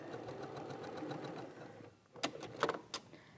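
A domestic sewing machine stitches a dart and chains off, with a steady, quiet whirring run, a brief pause, then a few short sharp bursts of stitching.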